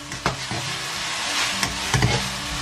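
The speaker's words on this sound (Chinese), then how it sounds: "把大蒜和生姜和猪肉迅速的翻炒在一起" Pork with garlic and ginger is tossed in a hot wok, giving a steady loud sizzle with sharp scraping stirs of the spatula at irregular intervals, and no voices.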